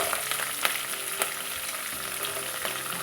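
Tempering spices and vegetables for semiya upma frying together in a pan, with an even, close sizzle and a few sharp ticks of a spoon against the pan.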